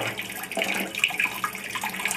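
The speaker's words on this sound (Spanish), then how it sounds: "Aunque el chorro sea un poco más pequeño, alcanza a ejercer cierta fuerza sobre el ping-pong." Water from a tap runs in a thin jet onto a ping-pong ball, a steady close splashing gush with small spatters, brief and moderately loud.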